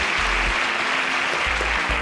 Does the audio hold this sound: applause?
yes